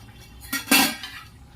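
A metal cooking pot lid lifted to check simmering egg curry, giving two quick clinks and a short scrape, close and fairly soft in a quiet kitchen.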